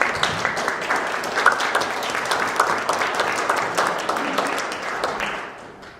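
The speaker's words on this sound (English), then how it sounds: "I sure hope that you'll join me in applauding the speakers who took time from their Saturday morning" An audience at a Saturday morning committee gathering applauds the speakers with steady, dense clapping that carries close and full for several seconds before tapering off at the end.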